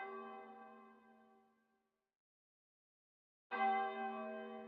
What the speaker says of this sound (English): Bells are ringing.